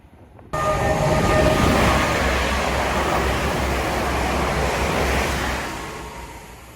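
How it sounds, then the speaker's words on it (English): A London Northwestern Railway train rushes past close by, a sudden loud roar of wheels and rushing air that holds steady for several seconds, then begins to fade away. "That was a London North Western Railway service from either London Euston to Coventry or Stafford."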